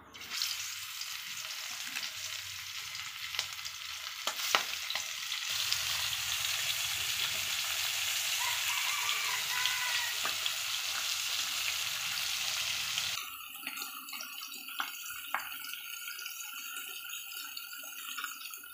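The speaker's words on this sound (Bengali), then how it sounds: "আমি তেলের মধ্যে ইলিশ মাছটাকে ভালো করে কড়াভাবে ভেজে নেব" Hilsa fish pieces fry crisply in hot oil, making a steady, close hissing sizzle with scattered pops; the texture shifts partway through as the frying settles.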